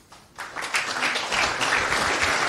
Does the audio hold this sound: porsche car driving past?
no